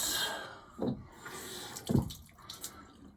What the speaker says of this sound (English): we will wash down the face just a little bit